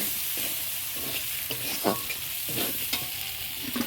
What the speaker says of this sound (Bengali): মশলাটা আগে ভেজে রেখেছিলাম, তাই এখন আমি অল্প করে ভেজে নেব।